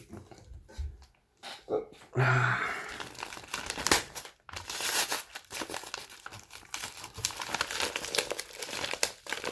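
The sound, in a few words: opening a Pokémon card parcel, crinkling packaging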